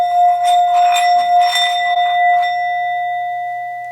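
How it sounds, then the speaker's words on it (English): A meditation singing bowl, held flat on open palms, rings with a steady sustained tone as a mallet circles its rim, a wavering shimmer on top in the first seconds before the hum settles and slowly fades. "you want to hold this bowl, you don't want to cup it, you want to hold it like this, with your palms straight out so that it doesn't stifle the sound"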